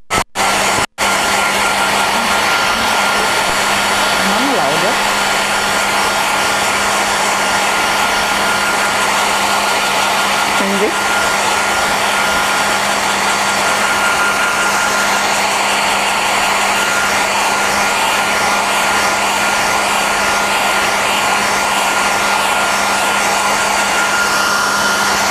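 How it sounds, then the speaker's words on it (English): A hair dryer blows steadily at close range for the whole stretch, a loud continuous whooshing hum with a faint motor whine, drying a piece of work. "I always help with a hair dryer, you know that I always use it."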